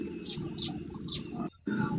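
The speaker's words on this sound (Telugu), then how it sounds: "పక్షుల కిలకిల రావాలు ఎంత వినసొంపుగా ఉన్నాయో" Baya weaver birds building a nest give three quick, high chirps in succession, close by, over a low background rumble and murmur.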